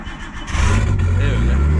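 A car with a sticky starter cranks briefly, then its engine catches and swells into a loud, steady low rumble that fills the rest of the moment.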